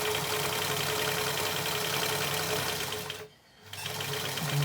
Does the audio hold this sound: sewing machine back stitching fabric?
yes